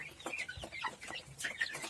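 Chickens and a rooster clucking in a backyard coop, several overlapping short clucks and calls close by, steady and busy throughout.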